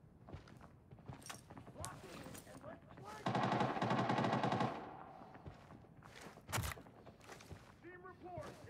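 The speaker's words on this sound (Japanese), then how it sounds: "なんかやばいスナイパーの音聞こえたんだけど" Gunfire in an Arena Breakout match, a sustained loud burst of rapid shots mid-clip and a sharp single crack later, amid quieter footsteps and game noise.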